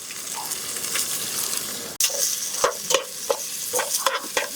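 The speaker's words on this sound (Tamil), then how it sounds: "வெங்காயத்தை கொஞ்சம் நல்லாவே வதக்கிக்கணும்." Onions and green chilies sautéing in a pan, a bright sizzle broken by repeated spatula scrapes and stirring knocks, close and lively, with a brief dropout midway.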